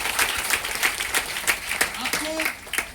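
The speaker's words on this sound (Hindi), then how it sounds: "तो जोरदार ताली होना चाहिए आप सबके लिए" Loud applause from a seated audience at a Patna meeting, dense clapping running throughout with a few louder bursts and some voices mixed in.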